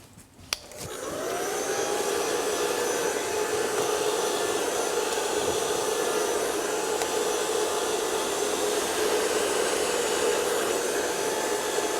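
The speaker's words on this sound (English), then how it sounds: "Put your blow dryer right on top of your metal barrel brush." A blow dryer switches on with a click and spins up, then holds a steady, loud whoosh and whine for the rest of the time while aimed onto a metal barrel brush in a hair styling session.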